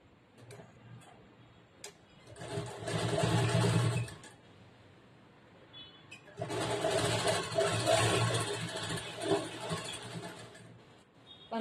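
Sewing machine stitching a dori strip for a friend dori back boat neck blouse, two loud running bursts of motor whir with needle ticking, separated by a quiet pause, no talk.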